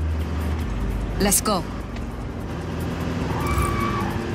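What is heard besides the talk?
car driving in video game Just Cause 4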